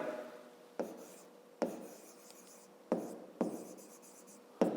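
Pen writing on paper during a fifth-grade math exercise, close and quiet: scratchy strokes broken into several bursts, each starting with a sharp tap.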